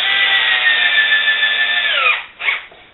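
A power drill drives screws into the wooden frame of an acoustic panel, a steady close whine for about two seconds that winds down, followed by a short second burst.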